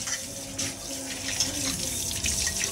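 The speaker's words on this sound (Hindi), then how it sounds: "गंदे हाथों से बर्तन धो रहे हो" Tap water runs steadily into a sink while dishes are washed, a continuous close splashing hiss with faint clinks.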